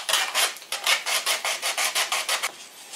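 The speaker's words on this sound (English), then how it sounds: "so I'm going to sand that down with some sandpaper" Sandpaper rubs back and forth on a 3D-printed facemask in a quick, even rhythm of about a dozen close, raspy strokes.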